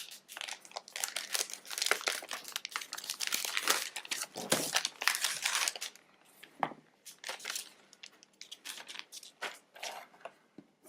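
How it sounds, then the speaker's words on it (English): Plastic cover peeled off a Raymay Davinci planner, close, busy crinkling and crackling in dense irregular bursts that thin out toward the end. "Let's go ahead and take the plastic cover off."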